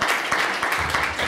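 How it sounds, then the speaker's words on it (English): A short burst of audience applause at an evening show in the Royal Kenz hotel, Tunisia, with a few sharp clap peaks over a continuous crowd clatter. "Let's give big applause."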